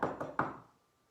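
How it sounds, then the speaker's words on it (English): Three quick knocks on a wooden door, evenly spaced and close, the last one slightly harder, with a short ring that fades into silence. "She knocked on the door,"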